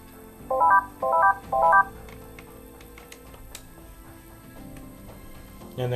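Three quick bursts of telephone keypad dialing tones during a call transfer, each a short run of stepped beeps, followed by a quiet line with faint background noise.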